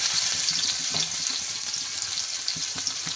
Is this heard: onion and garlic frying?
yes